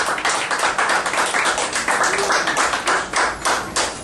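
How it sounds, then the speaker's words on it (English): At an evening showcase, a small audience applauds a performer, separate hand claps audible in a brisk, somewhat uneven rhythm, moderately close and steady throughout. "Let's give old Smoker Joe a big round of applause."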